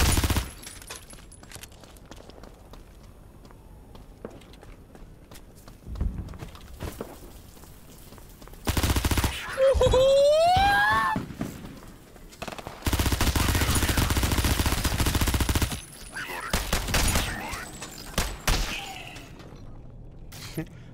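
Gunfire in a first-person shooter game, with long loud bursts of rapid automatic fire broken by single shots and gaps. Game sounds fill the gaps between bursts and a voice is heard briefly.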